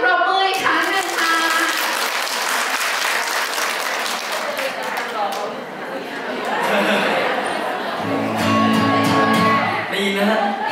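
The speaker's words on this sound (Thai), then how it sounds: "ขอเสียงปรบมืออีกครั้งหนึ่งค่ะ" An audience at a Thai singing idol contest claps in sustained, loud applause mixed with crowd chatter, which dips briefly and then swells again.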